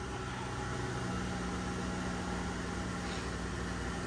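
A 1960 Ford F100 panel truck fitted with a Crown Victoria engine, running at a steady idle with a constant, even hum that stays level throughout.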